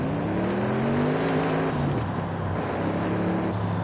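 Stock Audi RS 6 engine in Forza Horizon 5 hums loudly while driving, its pitch climbing under acceleration, dropping at a gear change and then rising again, with no one talking.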